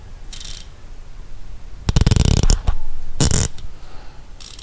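An Icon ratchet turned by hand close up, giving bursts of rapid rough clicking with pauses between them, the pawl chatter coarse and uneven.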